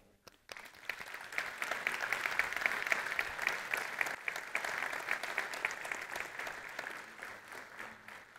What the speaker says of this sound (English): And for that, we applaud them.